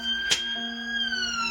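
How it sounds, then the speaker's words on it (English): A sustained, tonal siren wail holds a steady pitch, preceded by a brief sharp click, fairly loud and continuous. "Sorry about the sirens."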